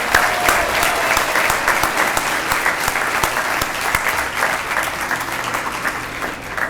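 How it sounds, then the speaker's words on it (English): Warm audience applause at a student heroes awards ceremony, with a room full of people clapping steadily and densely from start to finish, loud and close, with no talk over it. "How about another round of applause for these outstanding young people?"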